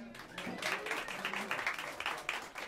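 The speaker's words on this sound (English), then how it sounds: "A round of applause for her." An audience at a small New York jazz club applauds the pianist, a moderately loud round of clapping and a few cheers lasting a few seconds with no speech over it.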